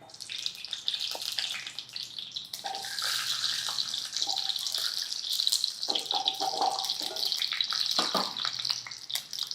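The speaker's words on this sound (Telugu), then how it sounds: "ఈ కాయలు నూనెలో వేసేయండి." Amla, Indian gooseberries, tipped into hot oil for pickle, set off a steady, loud sizzle and bubbling frying hiss that runs continuously throughout, with soft stirring clinks and no talking.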